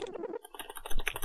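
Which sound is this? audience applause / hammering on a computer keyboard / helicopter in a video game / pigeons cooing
hammering on a computer keyboard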